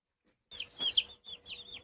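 A few soft clucks and chirpy calls from chickens, close by, in two short bursts separated by a brief pause.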